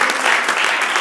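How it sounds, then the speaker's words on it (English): A church congregation claps in praise, a short, loud burst of dense hand clapping. "Give God a hand clap of praise to embrace that"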